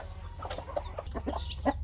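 A mother hen and her chicks cluck softly and repeatedly close by, short chattering notes overlapping in an irregular rhythm over a low background hum.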